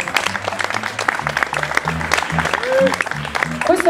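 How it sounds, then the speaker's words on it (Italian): An audience at a community gathering in Castel Campagnano applauds two young girls, brisk clapping over a rhythmic low musical backing, with a voice briefly heard amid the noise. "Francesca e Chiara, un applauso a loro."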